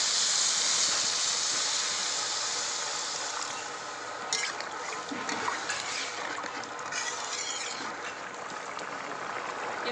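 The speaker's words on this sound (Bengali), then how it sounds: "এবার জল দিয়ে দেব।" Water is poured into a pan of rohu fish curry with fried potatoes cooked in spices, a steady close hissing pour that runs continuously with no one speaking.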